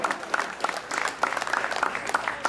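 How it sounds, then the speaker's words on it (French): An audience at a graduation ceremony applauds to welcome a speaker, a moderate crowd of hands clapping with uneven, crisp claps, steady throughout the short stretch and heard from within the room. "Second applaudissement, accueilli ici Franck Junior."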